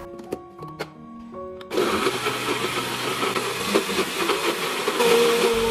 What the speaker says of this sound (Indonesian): Kemudian blender sampai benar-benar halus ya.